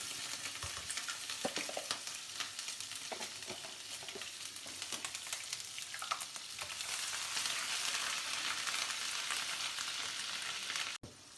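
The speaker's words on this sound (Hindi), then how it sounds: "इसमें सबसे पहले हमारा 1 टेबल स्पून जो है वो जाएगा गार्लिक और जिंजर का। ठीक है, इसे सोते करेंगे।" Garlic and ginger paste sautés in a pan with a steady, soft frying hiss and scattered scraping taps of a spoon stirring, close and quiet with no voices, ending in a sharp click.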